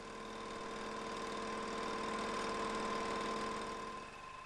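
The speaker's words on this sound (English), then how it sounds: "the section from the billet has to be turned to form a cylinder onto which the tracing pattern will be cut" A capstan or turret lathe turning a billet into a cylinder with a tungsten carbide cutting tool on the cross slide, giving a steady, loud mechanical drone with humming tones that holds evenly and eases off slightly at the end.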